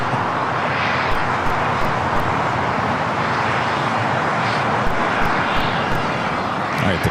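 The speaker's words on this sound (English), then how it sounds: "the Queen now taking off there on the north side" A big jet airliner, the Queen, takes off from the north side at LAX, its engines a loud, continuous broadband roar that holds steady throughout, with no speech over it.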